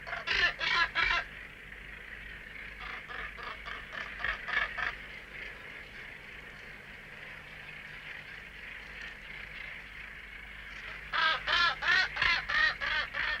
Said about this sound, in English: This display of mated gannets is among the most magnificent spectacles of the bird world.